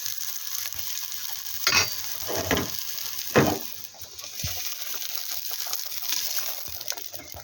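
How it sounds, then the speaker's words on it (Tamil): Steady sizzling of onions sautéing in hot oil, with occasional louder scrapes and stirs of a spoon in the pan. "வெங்காயத்தை போட்டு நல்லா வதக்கி விட்டுக்கலாம்."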